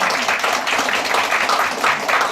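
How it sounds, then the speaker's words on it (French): Audience at a Paris bakery award ceremony applauds steadily, a dense, even wash of clapping from many hands with no talk over it. "papa qui est là, on peut l'applaudir comme ça"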